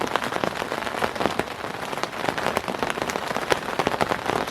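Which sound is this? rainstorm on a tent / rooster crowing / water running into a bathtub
rainstorm on a tent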